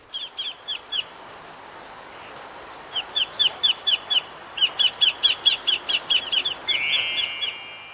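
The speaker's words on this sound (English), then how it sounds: "ideal for spotting migratory water birds" Migratory water birds chirp in quick repeated bursts in a mangrove on Koh Lanta, Thailand, bright, high calls in a few clustered runs against a faint outdoor background.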